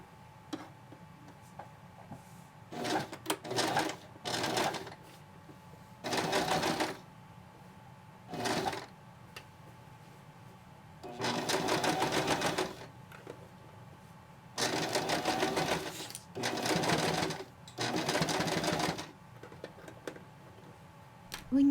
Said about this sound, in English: If I'm using my electric machine, I will simply move my needle to the left. Top stitch the top and the bottom row.